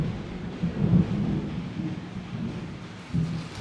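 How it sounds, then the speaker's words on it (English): Thunder from a tropical storm in Sydney rolls in as a long, loud low rumble with steady rain noise under it, then swells again near the end. "the first thunder cracked"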